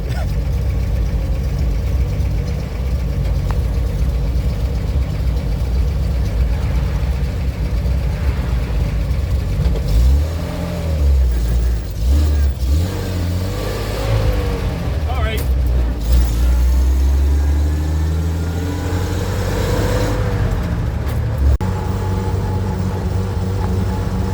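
A Bedford QL WW2 army lorry pulling out into heavy traffic, its engine a low rumble that swells and revs midway before settling back, loud and close, with voices over it.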